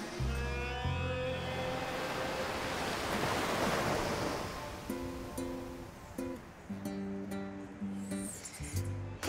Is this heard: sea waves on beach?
yes